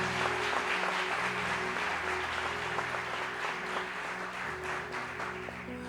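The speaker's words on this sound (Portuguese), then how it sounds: "Vamos aplaudir poderosamente a palavra de Deus." A church congregation applauds at a Portuguese-language evangelical service, a dense, sustained wash of many hands clapping at once, loud and even throughout, with no speech over it.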